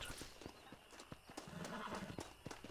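A horse's hooves clip-clop in a Red Dead Redemption game scene, a run of sharp irregular hoof strikes close by, with a faint snort and a voice talking underneath.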